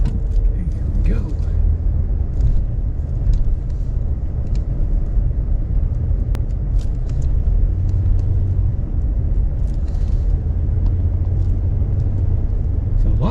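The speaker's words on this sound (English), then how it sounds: "Lots of cars." Steady traffic rumble of cars moving through Bar Harbor, Maine on a foggy day, a continuous low engine and road drone with a passing vehicle, heard from inside a moving car.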